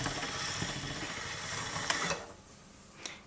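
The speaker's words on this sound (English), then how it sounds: "I'm going to take that down to the middle setting, which is number 3 on this machine, and I'm going to roll it through again." A clay rolling machine on its middle setting cranking polymer clay through its rollers, giving a steady close grinding rattle of gears and ratchet clicks that eases off near the end with a final click.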